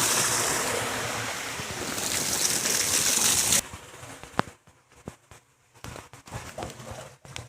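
Water from a pump motor pipe pours in a loud, rushing gush at first, then drops away to a quieter trickle with scattered splashes and knocks, close by and without talk.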